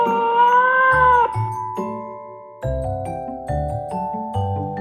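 A cat lets out a long, loud, drawn-out meow, followed by a string of bright synthetic musical tones, all close and clear with no talking.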